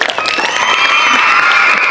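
Applause and crowd noise from children and staff at a Children's Day celebration at a school in Huppuguda, Hyderabad, steady and fairly loud throughout, with scattered shouts mixed into the clapping.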